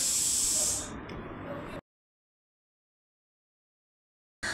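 Cashews and whole spices sizzle loudly in hot oil inside a pressure cooker for a chicken biryani, a bright hissing fry lasting under two seconds before it cuts to silence, then a short burst of sizzle returns at the end.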